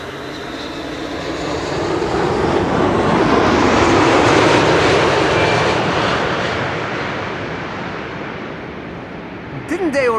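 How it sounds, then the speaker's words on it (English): A Boeing 787-10 Dreamliner arriving at Schiphol's Kaagbaan runway roars past in a broad, loud jet rush that swells to a peak mid-clip and slowly fades, with a small clatter near the end. "787-10 Dreamliner. 6 hours and 35 minutes away, it's the Papa Hotel Bravo Kilo Oscar"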